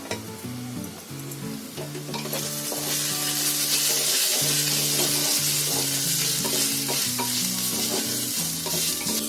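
Grated coconut dropped into a pan of frying onion for a bitter field bean (kadve vaal) dish, giving steady loud sizzling with stirring scrapes, while low tonal music plays throughout.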